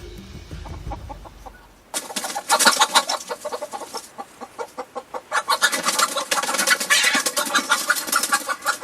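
A chicken in a winter outdoor setting clucks in rapid, loud, close bursts, a choppy run of sharp repeated calls that breaks off briefly and then resumes, with no talk.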